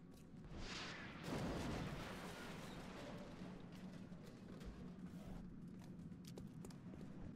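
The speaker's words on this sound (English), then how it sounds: "Firing rocket." Rocket launched in XCOM: Enemy Within (Long War mod), a brief rushing blast with a booming burst that decays into a lingering rumble, heard alone at low level.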